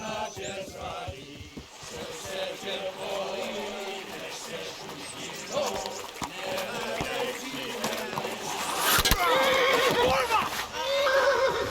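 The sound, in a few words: horse neighing in Kingdom Come Deliverance video game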